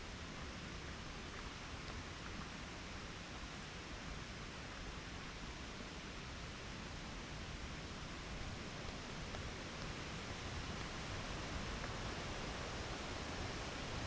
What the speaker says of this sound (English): you can see the bottom of the falls flowing underneath a historic stone arched bridge